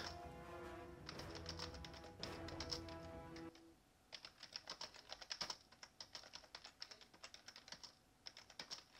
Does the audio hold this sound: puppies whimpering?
no